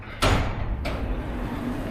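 A short mechanical clunk followed by a second softer thud as Riyadh Metro train sliding doors open, over a low steady background hum.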